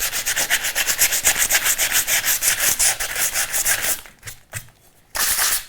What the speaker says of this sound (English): But I'm going to sand off that gummy stuff for sure.